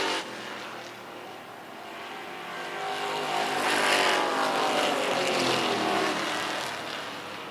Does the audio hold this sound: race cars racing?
yes